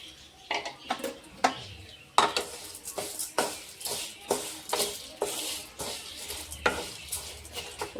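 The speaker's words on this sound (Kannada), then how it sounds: "ಅದೇ ತುಪ್ಪಿನಾಗ ಶಾವಿಗೆ ಹಾಕ್ಕೊಂಡು ಹುರ್ಕೋತೀನಿ ರೀ ಸ್ವಲ್ಪ" Vermicelli roasting in ghee in a pan for milk payasa, stirred with a spoon that scrapes and clinks against the pan in a steady, irregular rhythm over a faint sizzle, close and clear with no talking.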